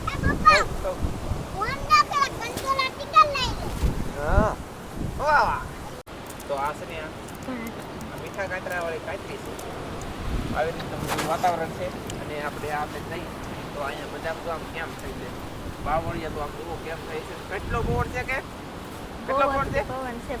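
Strong coastal storm wind buffets the microphone over the sea, with gusts and surf roaring in uneven surges. People talk loudly throughout.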